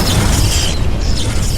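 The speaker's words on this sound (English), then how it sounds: "With a single devastating explosion, Xiaolong obliterated the organization's leader and reduced their entire base to nothing but ruins." A loud explosion sound effect, a dense, heavy rumbling blast that fills the whole clip with deep, sustained roar and crackle and no talk.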